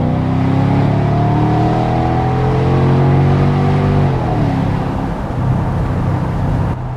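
A Mercedes-Benz SL500 R230 V8 accelerating, a loud close engine note climbing steadily in pitch, then dropping at a shift and pulling on with a rougher, continuous roar.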